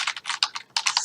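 Fingers tap out a file name on a computer keyboard in a quick, uneven burst of about a dozen crisp, close keystrokes with short pauses between.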